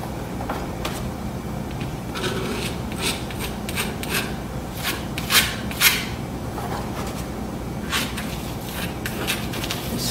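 Powder being spread by hand across a painted canvas, a continuous soft rasping rub with a few brief louder strokes near the middle, close and steady with no talk.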